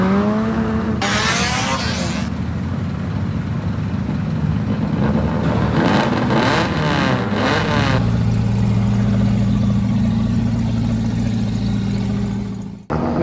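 A Suzuki Swift daily car revs hard at a Malaysian drag race, its engine rising and falling in loud, close bursts. Tires squeal, then the engine settles into a steady drone before a sharp final rev.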